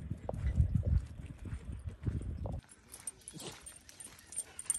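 Dogs near a waterside walk with boat moorings in Spain, with low thumping movement and rustling up close for the first half, then quieter distant activity with faint sharp sounds; no clear barking stands out.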